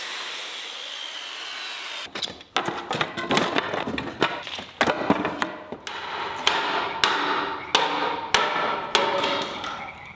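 Pallet boards for a barn wall being hammered on a farm, sharp, loud, irregular blows landing in quick bursts over a lingering rasp from a preceding cut, with no voices.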